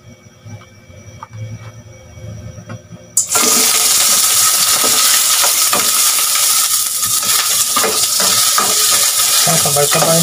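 Onion and garlic hit a hot pan for tinola, with quiet kitchen noise at first and then a sudden loud, sustained sizzle plus stirring clatter for the rest.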